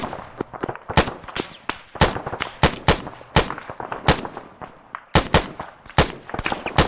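Machine gun fire in the video game Arma 3, sharp loud bursts of rapid shots in irregular volleys, some close and some farther off, with almost no talking.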